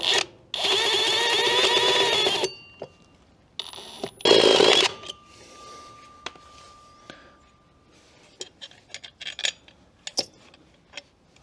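A step drill bit cuts a slot through metal on a John Deere X520 mower deck, a steady grinding drill run lasting about two seconds, then a second brief burst, followed by scattered clinks and taps of tools.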